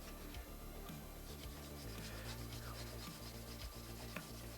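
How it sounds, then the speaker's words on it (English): Steady rough rubbing and rasping, close up, in continuous back-and-forth strokes with no talking, as a plastic Gunpla model part is sanded. "Having to spend a little bit longer sanding this than I would on any normal plastic."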